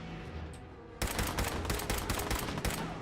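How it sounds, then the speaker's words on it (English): Combat rifle fire in the video game Fallout 4, a sudden burst of rapid, loud, close shots in a fast rhythm following a quieter opening second. "This is really helpful with like the combat rifle, because the combat rifle has like crazy recoil."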